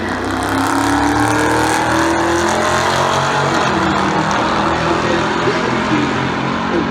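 A Dodge Challenger Scat Pack 1320 at the drag strip roars loud and close, its engine note climbing steadily through a full-throttle pass with no break or talk.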